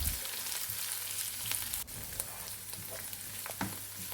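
Ginger garlic paste, mint leaves and green chillies sizzle steadily in hot oil while being stirred, with a continuous close frying hiss and occasional scrapes of the spoon.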